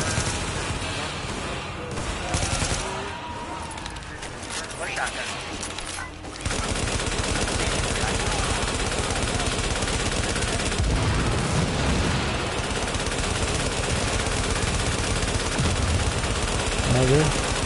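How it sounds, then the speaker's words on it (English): Shotgun gunfire in a PS4 video game: dense, rapid blasts fill the scene almost continuously, growing louder and heavier partway through, with some talk mixed in. "Shotguns."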